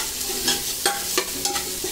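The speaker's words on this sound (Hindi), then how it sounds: "सब वेजिटेबल्स अच्छे से फ्राई होने चाहिए" Mixed vegetables, tomato and sweet corn fry over a medium-high flame for wheat daliya, crackling loudly up close while a spoon stirs them in quick scraping strokes, several in a row.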